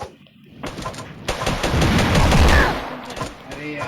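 Shotgun blasts in a video game come as several loud, close booming shots in quick succession over game background noise, with brief voice sounds mixed in.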